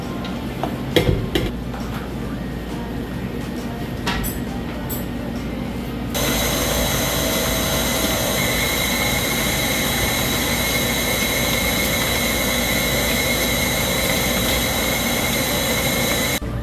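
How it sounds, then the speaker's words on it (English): Butter and sugar are creamed for a Trini-style fruit cake, likely in an electric mixer, making a steady loud whirring drone that runs continuously after a few scrapes and clinks of the bowl. "You're going to continue doing this until the butter and the sugar cream and become light and fluffy."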